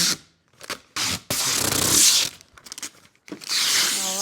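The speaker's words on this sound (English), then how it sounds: "Should we peel the plastic from the top of the machine?" Protective plastic film is peeled off the top of a laser engraver in several ripping pulls, starting with short tugs and then a long crackling tear, loud and close, with a brief voice at the end.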